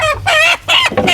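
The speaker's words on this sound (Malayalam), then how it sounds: "ബാക്കിയിലെ കോഴിക്കളൊക്കെ ഞാൻ പിടിച്ചോളാം" Chickens cluck and squawk loudly and close, in three quick agitated bursts during an attempt to catch them.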